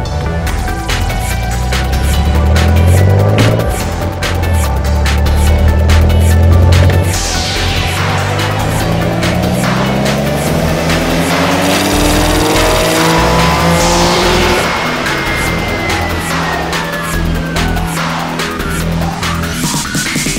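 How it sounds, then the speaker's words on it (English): Modified Nissan 370Z being tuned on a dyno, its engine revving hard and loud, pitch sweeping up and falling away through repeated full-throttle pulls with a steady mechanical roar throughout. "In the dyno tuning session, we adjust the air fuel ratio and ignition timing to achieve the highest amount of reliable horsepower."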